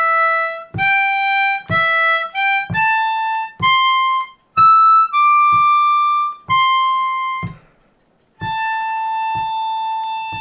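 A harmonica lick built from blow notes, clean and close, a string of short separate notes of shifting pitch with a brief pause before a final held note; no talking.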